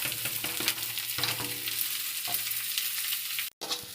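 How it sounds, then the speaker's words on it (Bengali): Chopped carrot, onion and chilli fry lightly in a little oil, giving a steady close sizzle with occasional stirring scrapes, then a brief gap near the end. "গাজর, পেঁয়াজ, লঙ্কা কুচুগুলো এবার আমি হালকা তেলে ভেজে নেব"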